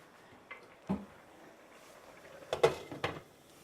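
A lid clatters onto a pan of cooking shakshuka with a few sharp metallic clinks and a rattle, close and fairly quiet over a soft background.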